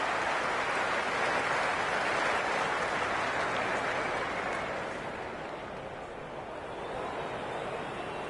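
A cricket crowd applauds in a broad, even wash of clapping that holds steady and dips slightly midway, distant and diffuse, with no clear voices standing out.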